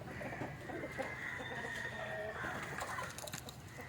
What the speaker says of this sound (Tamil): இது இன்றைக்கி கோழி சவுண்டோடி கிளியராக கேட்கும் ப்ரோ.